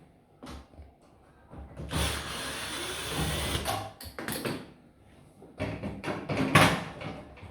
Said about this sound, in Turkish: Şimdi altını söküyoruz. Vidasını sökelim.